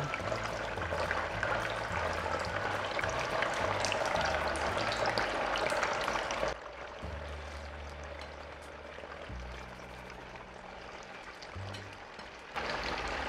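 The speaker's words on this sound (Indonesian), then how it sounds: "sekarang kita masukkan kue mochi atau kue ketan, lalu kita goreng sampai matang dan crispy" Mochi, glutinous rice cakes, deep-frying in hot vegetable oil: a steady dense sizzle and crackle that fills the whole clip, easing slightly after a shift midway, with low background tones underneath.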